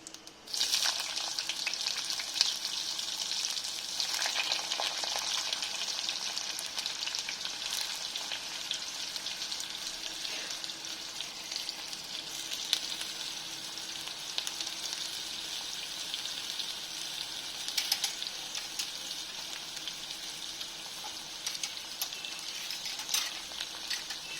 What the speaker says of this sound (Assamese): পাঁচফোৰণখিনি অকণমান ৰঙচুৱা হোৱাৰ পিছত মই ইয়াত জিকা আৰু আলু দি দিম।